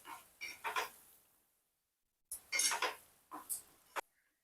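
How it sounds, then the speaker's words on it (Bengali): Spice paste being stirred in a pan for a Bengali bata fish curry, two separate bursts of scraping and clinking from a spoon against the pan, close and fairly quiet, with a short pause between them. "আবারও কিছুক্ষণ নাড়িয়ে নেব।"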